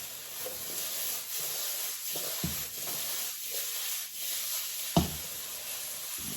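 Eggplant and tomato tossed in a wok give a steady sizzle and hiss, broken by a few sharp knocks and scrapes of the pan, with no talking.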